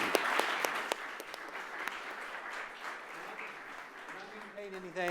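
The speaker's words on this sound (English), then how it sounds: "And just a quick round of applause before we wrap up." An audience at a 2015 debate event gives a brief round of applause that starts strong and gradually tapers off, with a speaker's voice returning at the end.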